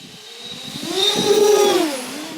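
An iFlight X-Class 8S lightweight quadcopter drone makes a full-throttle speed pass, its high motor whine rising and then sweeping down in pitch as it approaches and flies by, loudest midway.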